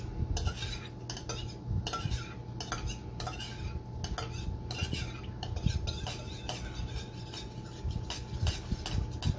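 A utensil stirs liquid smoke marinade for beef brisket in a bowl, producing rapid clinking and scraping against the dish, close and steady.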